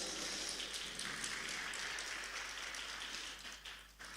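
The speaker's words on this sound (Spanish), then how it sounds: "Vamos a dar un aplauso más al coro Nueva Alegría." A church congregation applauds a choir during an evening service, a soft, distant wash of steady clapping that blends into a rain-like patter, then thins slightly toward the end.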